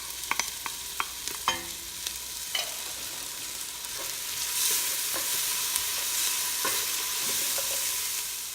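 White onions and garlic sizzle and fry in a pan at moderate volume, with a steady hiss broken by occasional clicks and scrapes of stirring.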